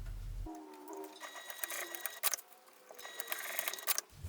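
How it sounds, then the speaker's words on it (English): A sewing machine stitches a fabric wristlet strap, its rapid mechanical whirring running in close bursts with a brief pause midway and small clicks between. "So I'm going to sew this now."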